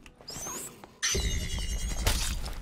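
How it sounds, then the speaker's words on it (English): Shrill squealing screech of a bat creature in a video game, rising over ambient game sound, followed by a sudden louder burst of broadband game noise partway through. "Let's dodge the bat scream if we can."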